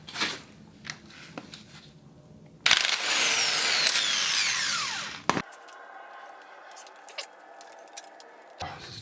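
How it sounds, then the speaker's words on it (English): An impact wrench works on a motorcycle sprocket in a workshop with a single sustained whirring burst of about three seconds, with small clicks and tool handling before and after. "Alright, we got the impact wrench here. We're gonna take that sprocket off."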